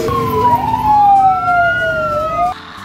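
A toy fire truck's electronic siren wails with a rising and falling tone, steady and close, stopping abruptly near the end.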